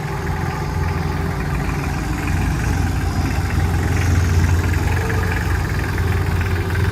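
Solis 26 mini tractor engine running in reverse during a test drive, a steady close low rumble with continuous mechanical vibration and no speech.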